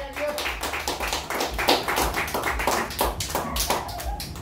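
Worshippers in a church clap in praise, a steady rhythmic clapping that stays fairly even throughout with a low hum underneath and some voices in the background.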